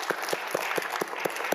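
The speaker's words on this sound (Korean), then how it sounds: "우리 하나님께 영광의 박수 한번 합니다" A church congregation applauds during a sermon, heard as a brief, steady patter of rhythmic clapping in a roomy space.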